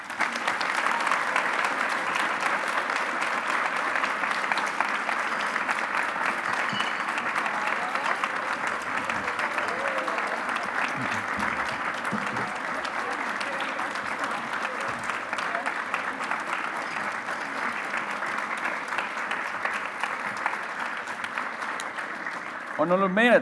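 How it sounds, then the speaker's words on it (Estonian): A fashion show audience applauds in a long, dense, sustained wave of clapping that stays loud and steady for over twenty seconds, with a few cheers mixed in and a brief swell at the end. "teeme siis veel korra ühe, nii suure aplausi, kui üldse saab kõigile meie žürii liikmetele ja disaineritele"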